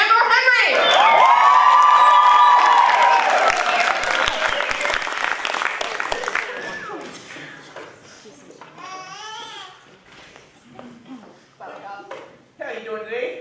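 School improv show audience cheering and applauding, a loud burst of claps, whoops and shrill shouts from a crowd that fades over several seconds into scattered chatter and laughter, with voices talking near the end.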